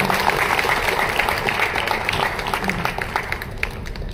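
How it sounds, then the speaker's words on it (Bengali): Audience applause at a gathering honouring a senior guest, a dense, steady clapping that fills the whole stretch at an even, fairly loud level with no clear pauses. "আমরা সবাই মিলে করতালি মাধ্যমে করতালি কিন্তু জোরে চাই অনেক বার"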